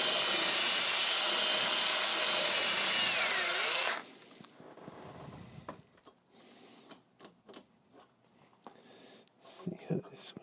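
A drill bores through a 3D-printed GoPro tripod mount, giving a loud, steady, high-pitched whine for about four seconds. It then stops abruptly, leaving quiet handling clicks and taps.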